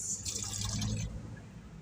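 Water pours steadily onto a small amount of rice for porridge for about a second, then stops, leaving a quiet hum. No one speaks.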